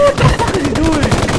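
Gunfire from a multiplayer horror video game, with bursts of shots running continuously under excited voices talking over the action.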